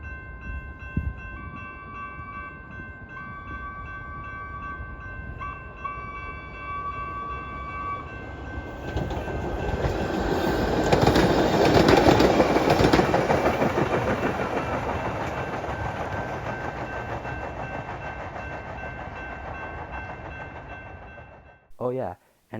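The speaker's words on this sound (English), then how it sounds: "we see another CTA holiday train set heading westbound again" A Chicago CTA holiday train rumbles westbound past on the rails, growing louder to a broad roar midway, then fading, with faint steady tones and a brief clatter at the end.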